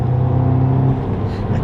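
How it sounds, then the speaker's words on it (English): An Audi S3 (8V) engine with an aftermarket cold air intake hums and revs close up, a steady droning tone with a faint turbo whir rising near the end. "There's more engine noise, you can totally hear. I like the little bit of turbo noises."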